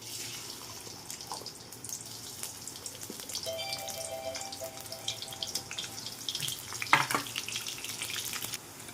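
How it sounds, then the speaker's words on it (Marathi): Quiet, steady sizzle of onion frying in a pan, with occasional clinks and scraping sounds from stirring. "त्याच भांड्यात आपण कांदा तळून घेणार आहोत"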